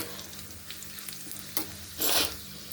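Tempering frying in hot oil in a pan for a cucumber tomato chutney, a low steady sizzle with a few louder bursts of spattering crackle near the end, no voices.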